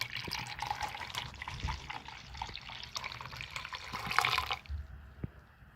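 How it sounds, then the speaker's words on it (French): Water is poured into a pot of oil just taken off the heat, making a soft, continuous splashing and trickling that ends abruptly near the close. "Et puis, je vais mettre mon eau à l'intérieur."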